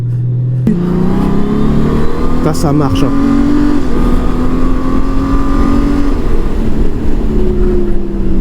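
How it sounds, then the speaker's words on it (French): A 2025 Honda Gold Wing Touring DCT motorcycle engine rumbles loudly nearby and revs up as it accelerates, holding a steady drone, with a brief spoken remark early on. "je vais laisser passer les voitures qui arrivent et après je vais faire une petite accélération quand même."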